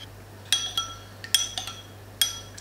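Hot sauce and butter stirred together in a bowl, with a few sharp clinks of a utensil against the bowl, spaced irregularly and close by, over a faint steady hum.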